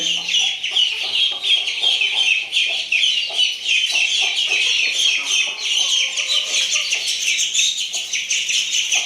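A black hen clucks steadily among a busy chorus of chirping birds, with repeated clucks close by and chirps filling the background throughout.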